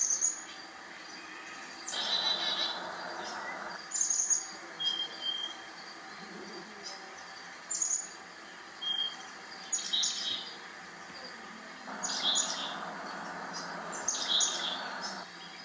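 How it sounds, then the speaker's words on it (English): Chickadee calls, repeated high chirps coming in short bursts every second or two over a steady wash of outdoor background noise, moderately close and clear. "But we hear chickadee dee dee"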